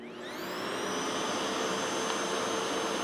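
A Revair hair dryer runs loudly on its lowest tension setting, a steady whooshing roar with a high whine that swells in the first half second and then holds constant, with no talking.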